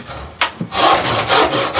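Silky handsaw cutting wood on a fresh cut beside an existing kerf: an isolated stroke, then a sustained run of loud, close rasping push-pull strokes in steady rhythm.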